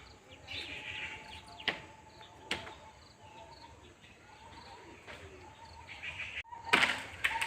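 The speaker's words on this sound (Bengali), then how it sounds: "এই যে পায়রা এখন নামছে একটা পায়রা নামলো" Pigeons flying over a rooftop come down to land, soft wingbeat flaps and sharp claps of wings punctuating quiet outdoor ambience, with faint cooing and chirps and a louder flurry of flapping near the end.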